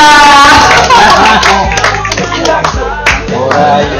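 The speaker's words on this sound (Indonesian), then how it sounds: "kita berikan tepuk tangan" Audience clapping at an organization's board inauguration, loud and close, mixed with music and voices over roughly four seconds.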